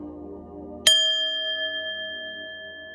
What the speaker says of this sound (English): I'm gonna ring the bell, clear your energy